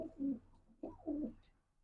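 Two soft cooing calls come from large pigeons, each a low rolling coo, close by and quiet against a still background.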